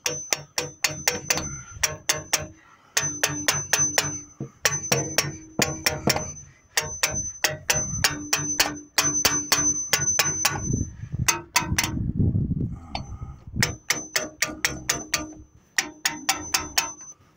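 Close, ringing metallic taps from a hammer striking the valve rocker arms of a seized 440 engine in a 1970 Plymouth Road Runner, hit in rapid clusters with brief gaps and a duller knock partway through.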